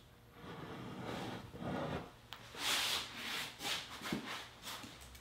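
A wooden base being worked free from a hardwood cross brace in a woodshop, heard as repeated close scraping and rubbing strokes of wood on wood, fairly quiet, with no talking.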